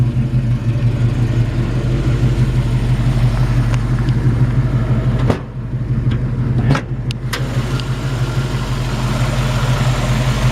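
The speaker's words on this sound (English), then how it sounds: "A really solid, aggressive Mustang sound." The V8 engine of a 1966 Ford Mustang GT350 clone with GT exhaust rumbles steadily at idle up close, with a deep throaty exhaust burble and a couple of brief dips in the drone.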